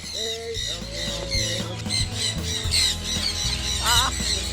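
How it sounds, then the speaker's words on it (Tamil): Parrots at Hambantota Birds Park squawk repeatedly as they land on visitors, harsh calls overlapping a steady low hum and faint background chatter. "உடனே வந்த உடனே கிளியெல்லாம் எங்களுக்கு மேலே வந்து இருக்க தொடங்கிட்டு"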